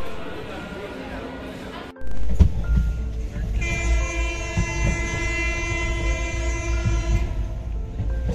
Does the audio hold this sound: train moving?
yes